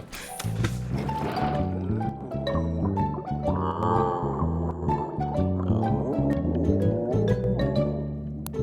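A deep, drawn-out cartoon whale shark moan with wavering low tones, layered over music and bubbly underwater effects.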